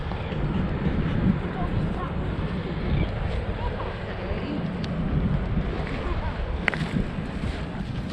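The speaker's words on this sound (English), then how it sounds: "Wind's whipping up a little bit" Gusty wind buffets the microphone on a sunny beach at Scamander, Tasmania, a steady low rumbling roar with occasional stronger gusts and faint background sounds.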